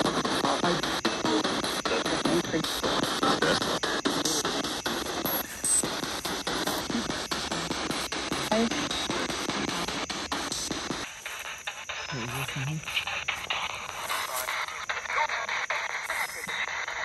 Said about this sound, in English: Just grab whatever you need off of the white noise and work on the transmission.